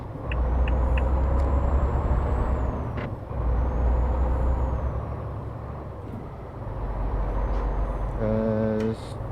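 A truck in the Euro Truck Simulator 2 multiplayer game vents air from its brakes in long hissing bursts over a low engine rumble, followed near the end by a short sharp release and a horn-like tone.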